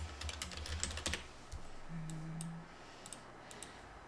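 Quick bursts of typing on a computer keyboard while writing in Notepad, the key clicks clustered at the start and then sparse, scattered taps, close and crisp over a quiet room with a faint low hum.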